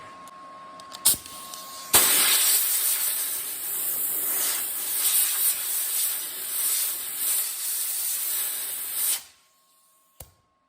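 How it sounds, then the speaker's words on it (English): A steady blast of compressed air hisses onto a freshly welded cab corner of a 1978 Chevrolet C10 Sierra Grande to cool it, running loud and continuous for about seven seconds before cutting off. "There's some air we can blow on it."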